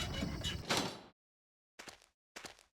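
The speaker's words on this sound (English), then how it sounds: "So let's go through this door." A door opens in the Silent Hill 4 PC game's forest world with a loud, sustained scraping rush, then after a pause two shorter clattering bursts follow as it is passed through.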